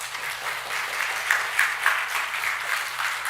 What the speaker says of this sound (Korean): 우리 힘찬 격려의 박수를 한번 부탁을 드리겠습니다